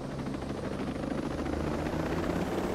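A helicopter drones close and loud in a video game, its rotor chop a continuous dense thrum with no pause and no voices.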